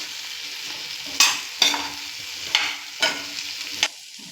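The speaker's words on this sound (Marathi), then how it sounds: "आता शेंगा घालून परतून घेऊयात चांगल्या शेंगा, म्हणजे मसाला त्या शेंगांना लागू दे" Drumstick pods are sautéed in coconut masala, with a spatula scraping the pan in five distinct strokes over a quiet, continuous sizzle.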